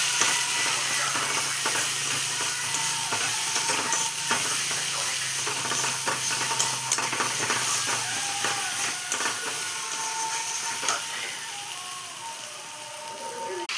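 Ground cumin and chili paste frying in hot oil in a pan, a loud dense hiss and sizzle that runs steadily throughout, with faint scrapes and clatters of stirring underneath, close up.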